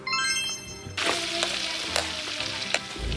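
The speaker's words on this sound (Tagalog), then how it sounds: "Mainit na kawali at mantikilya, igisa natin ang bawang." Garlic sizzles in butter in a hot pan for a Filipino menudo, with a steady frying hiss broken by a few stirring scrapes and clinks near the end.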